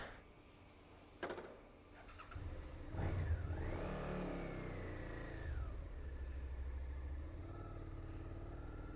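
A freshly washed motorcycle pulls away, its engine revving up in a rising whine and then settling into a steady moderate hum as it rides off.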